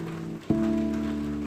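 Steady rain falls in a dense, even hiss throughout, with a brief dip and then a sharp onset as a low, sustained tonal hum comes in partway and carries on under the rainfall.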